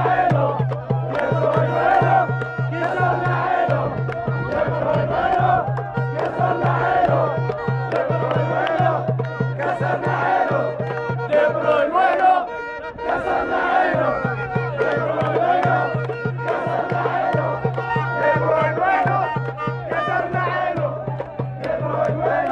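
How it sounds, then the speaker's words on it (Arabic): Moroccan and Arab football fans celebrating in Qatar, a dense loud crowd chanting and cheering in rhythmic waves with a steady drum-like or horn-like pulse underneath, continuous throughout. "تعالوا نروح لقطر ونشوف فرحه الجماهير المغربيه والعربيه في قطر."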